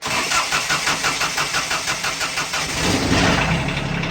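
A 1964 Ford Fairlane's diesel engine, started with glow plugs, cranks in a fast rhythmic chug before catching and settling into a loud, close, rough running rumble.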